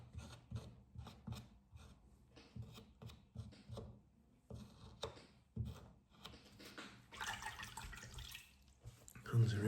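Tap water runs as hands are rinsed clean of clay at a pottery workbench, a hissing spray that swells near the end after scraping and handling sounds, with a voice talking earlier.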